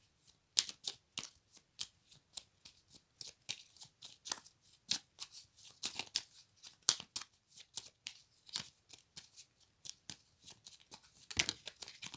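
A deck of oracle cards is shuffled by hand, with a long run of quick, crisp riffling and slapping clicks in an uneven rhythm, close and clear with no talk.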